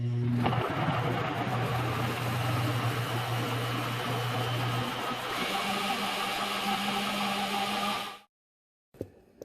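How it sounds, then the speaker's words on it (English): Blender motor running steadily for about eight seconds while blending albóndigas soup sauce with a little water, a loud continuous whirring drone that cuts off abruptly, followed by a brief clunk. "and I'm gonna blend it."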